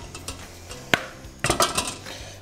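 Metal pots clank and clink together while one pot is set inside another as a water bath for melting chocolate, with a few sharp knocks followed by a cluster of rattling hits, close and fairly quiet, no talking.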